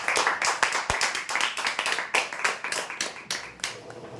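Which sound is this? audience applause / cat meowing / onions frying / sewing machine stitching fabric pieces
audience applause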